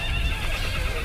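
A horse whinnies loudly and up close in a Karbala history drama, a short, strained neigh over a steady rumbling background.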